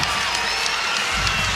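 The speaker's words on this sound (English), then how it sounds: "A raucous crowd" A raucous crowd cheers at a UConn men's college basketball exhibition game against URI, a loud, steady arena roar of shouting and whooping that fills the whole moment.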